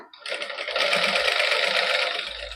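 A sewing machine runs a single line of stitching on a plain suit, a close, steady whirring that rises quickly and holds for about two seconds with no talk.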